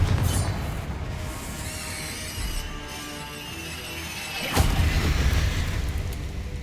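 A Confringo spell explodes in Hogwarts Legacy, where a sudden loud blast bursts out partway through amid ongoing rumbling game sound.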